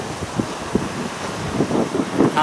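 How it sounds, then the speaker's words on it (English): Wind blows across an outdoor allotment garden, buffeting the microphone in a steady, rushing roar with faint rustles and a few soft knocks, no voices. "there was some wind blowing around"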